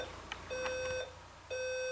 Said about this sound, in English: The first thing that has to go is the alarm clock.